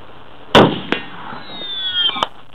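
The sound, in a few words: bolt-action .50 cal rifle shot ricocheting off steel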